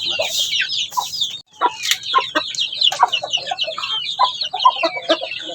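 Chicks and poultry cluck and peep near at hand, a dense, continuous chatter of overlapping high chirps with a few louder calls, while birds get a drink of antibacterial water with vitamins A and B12.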